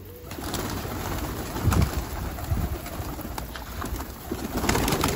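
Pet pigeons coo softly and rustle their wings close by, with a few brief flutters and low calls over a steady background hiss.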